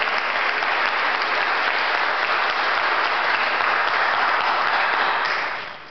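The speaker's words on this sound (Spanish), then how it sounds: "Denle ese aplauso fuerte al Señor" A church congregation at a Spanish-language service claps loudly and steadily for several seconds, a dense, even roar of many hands that fades slightly at the end. No voices stand out.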